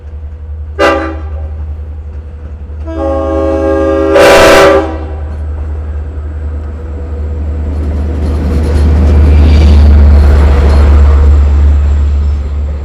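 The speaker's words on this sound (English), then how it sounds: "Love those horns." Two loud Long Island Rail Road train horn blasts at Speonk station, a short one then a longer one, sound over a heavy rumble that swells as the train passes close by.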